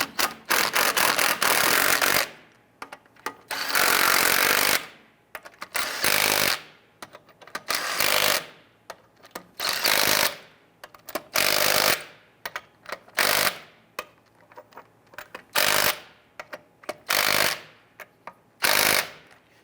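Power impact wrench snugging down lug nuts on a 1994-2004 Ford Mustang front wheel, loud rattling bursts of one to two seconds repeated about a dozen times with short silent gaps, close and alone.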